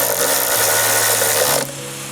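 A power driver with a T30 bit runs a 6mm bolt home during a grab handle install on an Ineos Grenadier A-pillar, giving one steady, close motor whir of about a second and a half that stops abruptly.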